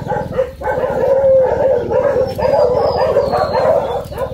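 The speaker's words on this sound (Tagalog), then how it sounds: "Mga aso namin mga karabas eh hindi man nakakapasok dito pero hindi ibig sabihin eh hindi nyo maririnig." Several dogs bark and howl together in a loud, continuous chorus, voices overlapping and rising and falling without pause.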